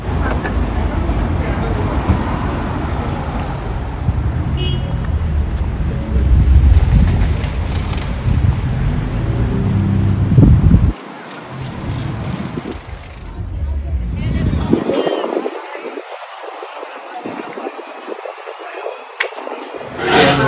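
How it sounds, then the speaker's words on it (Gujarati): Strong wind buffets the microphone with a loud, rumbling roar that dips and gusts while people talk. "જરાક બહુ પવન છે પણ ઠંડી નથી"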